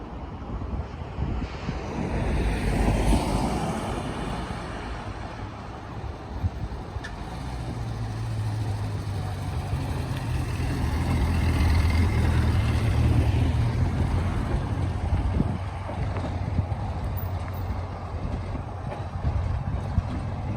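A Ford Thames E83W commercial van on a test drive, its low engine rumble and road noise steady throughout with wind buffeting the microphone, rising and easing in loudness.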